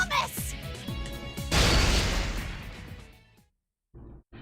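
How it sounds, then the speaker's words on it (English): A rupturing small explosion in the Persona 4 Arena Ultimax video game: a sudden loud burst that rumbles and fades over about two seconds, preceded by voiced game dialogue and followed by a brief silence. "a rupturing sound like a small explosion shakes the entire room"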